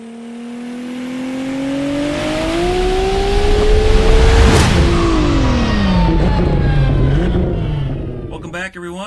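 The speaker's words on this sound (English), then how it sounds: "road test the Armytrix valvetronic exhaust for the Porsche Macan." A Porsche Macan with an Armytrix valvetronic exhaust drives past, its exhaust note rising and shifting in pitch as it nears, peaking in a loud whoosh, then falling away with a fading drone.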